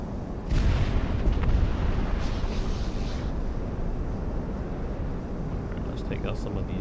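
Deep rumbling bomb blasts from a Project Wingman bombing run, a heavy low boom swelling early and then settling into a sustained muffled roar beneath continuous engine drone.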